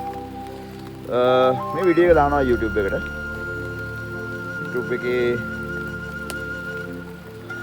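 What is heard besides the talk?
early morning rain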